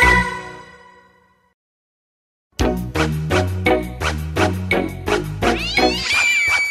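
A cat meows repeatedly in short, loud, close calls, following a decaying tonal chime and a brief silence.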